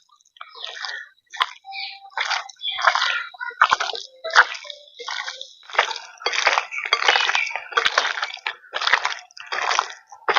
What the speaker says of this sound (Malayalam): നമുക്ക് കൈ കൊണ്ട് നന്നായിട്ട് ഈ മസാലയൊക്കെ ഇറച്ചിമ ആവേണ്ട രീതിയിൽ തന്നെ ആക്കി കൊടുക്കാം